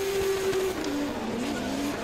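Subaru BRZ racing cars on a circuit at Val d'Argenton, tires squealing and skidding through a corner with engines droning, a steady loud wail that slides down in pitch, no voices.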